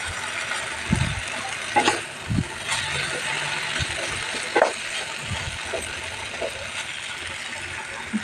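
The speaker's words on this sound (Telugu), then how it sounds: "పుదీనా వేస్తున్నాను. పుదీనా కూడా మొత్తం కలిపేసుకోవాలి" Mint leaves are mixed into softened cooking tomatoes for a tomato pudina pachadi, with a low simmering hiss and scattered close scrapes and clicks of a stirring spoon.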